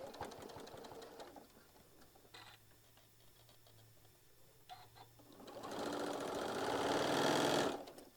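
A sewing machine stitches slowly across a thick seam juncture of a tote bag at a quarter-inch seam, with a steady mechanical whir that fades, then returns louder and busier near the end, with no talk.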